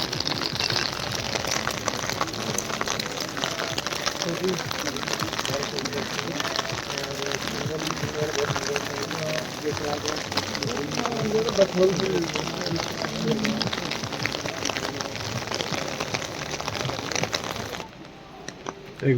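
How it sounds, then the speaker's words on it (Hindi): Heavy rain falls on a narrow, slippery mountain path on the Manimahesh pilgrimage, a continuous hiss with patters and crackles on surfaces, while a voice speaks over it throughout. "बारिश ऊपर से तेज हो गई है।"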